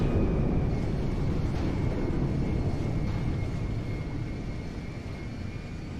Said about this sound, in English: Alrighty, we're taxiing now.